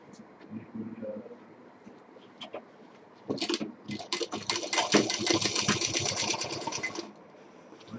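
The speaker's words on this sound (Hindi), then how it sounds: "इसको गोलाई से सिलते चले जाएंगे।" A sewing machine stitches around the curved piping of a simple fabric bag, starting after a few seconds as a steady, fast mechanical chatter that runs near and continuous for about four seconds before stopping.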